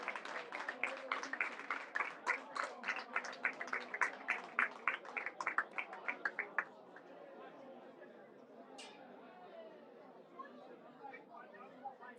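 Spectators at an Eccellenza Sicilia football match applaud a player leaving the pitch as a substitute, a steady burst of clapping over crowd chatter that stops midway and leaves faint murmuring and background noise.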